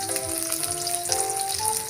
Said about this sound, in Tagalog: Ibubuhos na natin yung ating sibuyas.